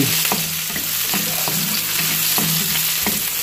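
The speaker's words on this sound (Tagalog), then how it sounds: "mainit na po yung mantika. Ilalagay na natin yung sibuyas." Onions sizzle and fry in hot oil for a pansit kapampangan, a steady loud crackle with periodic stirring scrapes close by, no talk.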